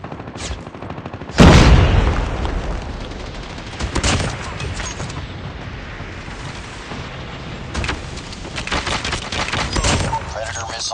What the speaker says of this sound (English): Friendly orbital laser deployed.